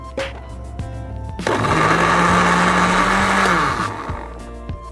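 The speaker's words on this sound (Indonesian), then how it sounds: "langsung aja kita blender sama bahan yang lainnya" A blender purees boiled corn, green beans, mung bean porridge and quail eggs for baby food, kicking on loudly into a steady whirring roar for about two seconds, then winding down.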